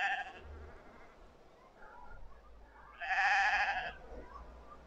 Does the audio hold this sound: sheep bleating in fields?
yes